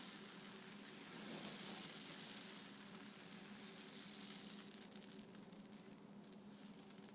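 Thick multi-lentil adai dosa batter sizzling on a hot skillet, a steady close crackling hiss that swells and fades slightly with faint pops, no voices.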